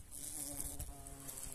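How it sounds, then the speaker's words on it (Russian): A large wasp, a big striped insect near a wasp nest, buzzes with a continuous close drone that shifts in pitch over a steady background hiss. "Какая он большая оса."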